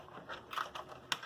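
Commodore 64 keycap pushed down onto its plunger: a few soft plastic clicks and taps, quiet and close, ending in one sharper snap.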